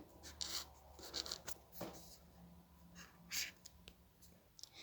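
A pencil marks answers on a test sheet with quiet, intermittent scratching and rubbing strokes in short bursts. The strokes are faint and close against low room hum, with no talk.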